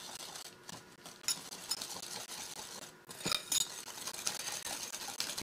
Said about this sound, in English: And we're going to whisk this up